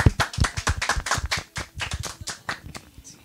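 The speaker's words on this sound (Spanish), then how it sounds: "Un aplauso para la verdad." A small group claps by hand at a business center event for entrepreneurs in Puente Alto, the irregular claps close and fairly loud, thinning slightly toward the end.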